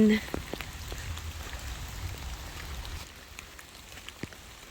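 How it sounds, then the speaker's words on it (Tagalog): Light rain patters steadily on a surface close by. Scattered drops tick through a soft, continuous hiss. "inabutan ako ng ulan."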